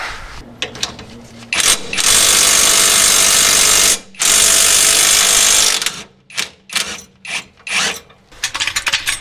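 A power impact tool loosens 19mm bolts on a car's rear strut, a loud whirring rattle running for several seconds, then short bursts and clicks as the bolts come free.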